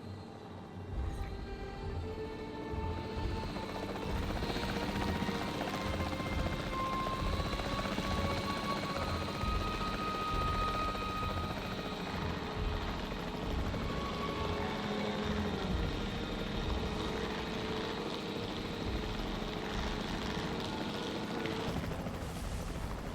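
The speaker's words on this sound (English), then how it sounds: "The priority needs to be tranquilizing it with the capture team chopper" A capture team helicopter in Jurassic World Evolution 3 drones continuously with a loud, steady rotor and engine roar, sustained and unbroken throughout.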